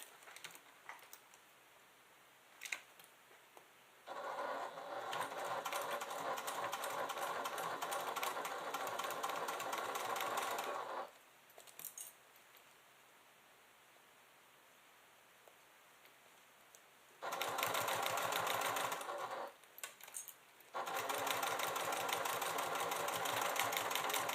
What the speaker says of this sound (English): We're just going to do a little top stitch here to close this up